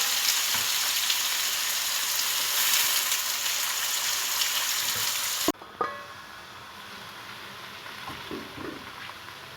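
Steady crackling sizzle of onions frying on low heat in a hot pan, dense and continuous, then it cuts to a quieter room with a few light clinks.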